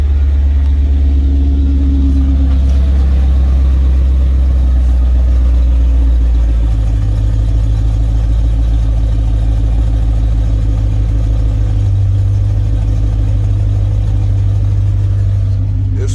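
Chevy with dump exhaust and old Super 40 or Super 44 mufflers, a cold engine idling with a loud, deep, throbbing rumble that holds steady close by.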